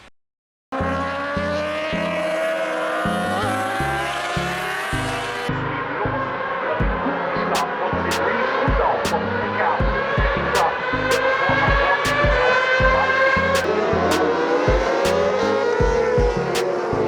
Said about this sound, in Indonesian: kapasitas mesin sidecar F1 yang disediakan adalah mesin 600 cc 4 tak